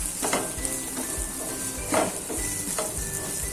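Sliced cabbage, carrot and chili are tossed and mixed in a pan over a steady sizzle. Repeated scraping strokes of a spoon against the metal land about every half second, close up and without talk.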